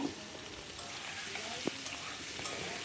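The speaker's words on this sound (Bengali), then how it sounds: "কড়াইতে তেল বসিয়ে দিয়েছি দিয়ে দিচ্ছি চিংড়ি মাছ" Shrimp dropped into hot oil in a wok to fry: a quiet, steady sizzle with a single sharp stir or scrape partway through, close and without talking.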